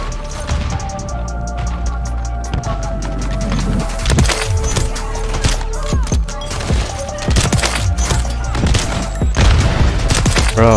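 Kar98 rifle shots in Modern Warfare 3 multiplayer ring out within a dense, continuous din of gunfire, booms and clatter, with a voice talking over the fight.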